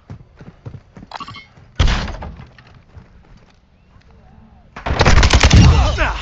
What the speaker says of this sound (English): we're trying to shoot people with Kastovs and a VLK-4